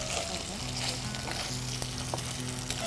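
Ginger, garlic and salt sizzle steadily in hot oil in a pan, a dense close frying hiss with a low hum beneath and a few faint clicks.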